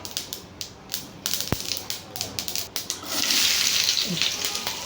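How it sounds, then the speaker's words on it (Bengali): Tender bottle gourd (lauki) being fried in a pan, a series of crisp clinking and stirring taps followed by a rising steady sizzle of frying, close and moderately loud. "এখন লাউ ভাজা করব"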